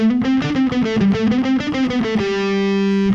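A distorted electric guitar picks a quick run of single notes, then lets the last note ring out sustained.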